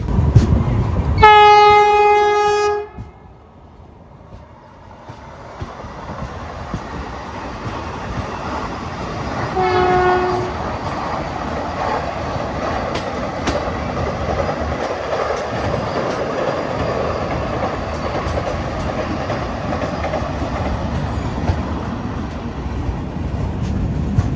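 A Humsafar Express passenger train on the Pune to Sri Ganganagar route sounds a long horn blast, then a shorter one, over the loud continuous rumble and clatter of the wheels on the track.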